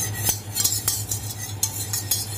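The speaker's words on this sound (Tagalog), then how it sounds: "Habang pinapakuluan natin itong cornstarch, kailangan natin haluin" A spoon stirs a boiling cornstarch mixture in a pot for homemade avocado ice candy, scraping and clinking against the metal in a steady series of strokes over a low bubbling hum, with no talking.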